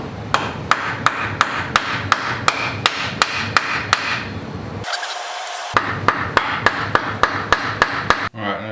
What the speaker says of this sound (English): I'm gonna tap it with a hammer